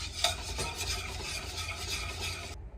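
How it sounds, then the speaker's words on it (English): A spoon scrapes and stirs thick vanilla crumb pie filling in a pot, a steady close rubbing swish with a soft sizzle beneath, continuing evenly for a few seconds before cutting off abruptly. "Now the recipe doesn't tell me to keep stirring, so maybe I should back off on that."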